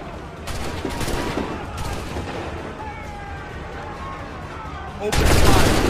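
A ragged musket volley in Assassin's Creed III, with dense overlapping gunfire crackling for several seconds before a heavier, louder burst of shots near the end.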